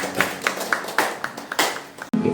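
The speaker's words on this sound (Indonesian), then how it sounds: "Tepuk tangan dulu dong." Applause at a small church fellowship gathering, a few people clapping in a loose rhythm of separate hand claps, close and fairly loud, ending abruptly.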